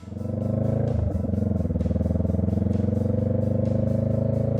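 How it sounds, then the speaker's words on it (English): Honda Rebel 500 motorcycle engine running nearby, a steady loud rumble with regular pulsing throb and a brief blip of throttle early on. "Number 13, the Honda Rebel 500."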